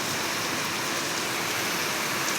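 Heavy rain pours down in a dense, steady hiss. The wash of sound is constant and even across the whole moment, with no voices.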